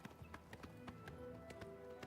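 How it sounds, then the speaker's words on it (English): Horse hooves clip-clop in a steady trotting rhythm in the video game Oblivion, a run of evenly spaced, fairly quiet taps over soft background ambience. "Gonna get off the horse so they don't accidentally kill our expensive horse."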